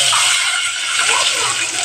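Water pours steadily into a pot while payasam is being made, a loud close continuous gushing splash that lasts throughout.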